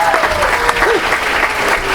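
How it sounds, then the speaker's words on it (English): Audience applause at a 4th grade school event, steady clapping from a crowd of children and adults, with faint voices and chatter mixed in throughout. "Let's give the representatives a round of applause."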